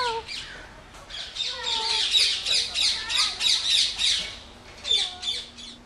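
Several parrots at a parrot sanctuary, including macaws, cockatoos and an African grey, squawk loudly and repeatedly in close, harsh bursts, a brief pause before another round of calls.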